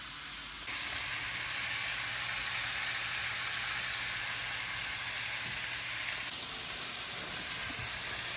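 Mangrove snapper fillets frying in a pan give off a steady, loud, hissing sizzle that sets in suddenly after a short quiet start and holds evenly to the end.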